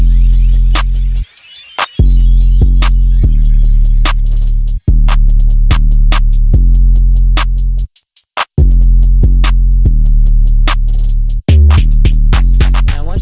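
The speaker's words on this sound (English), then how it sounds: "Then I added these drums." Loud, punchy hip-hop drums with heavy bass and sharp repeated hits pound over the beat's melody, with brief dropouts and stops breaking the groove now and then, and no voice.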